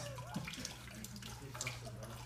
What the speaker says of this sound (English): Water's draining out of that, okay.